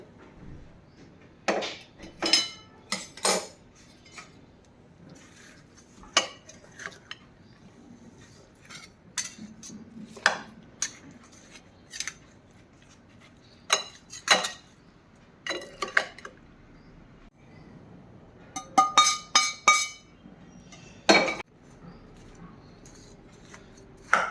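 Lemon pickle being stirred with turmeric, salt and cooled asafoetida, with scattered sharp clinks and scrapes of a spoon against a vessel, some in quick clusters, close by and with no talk.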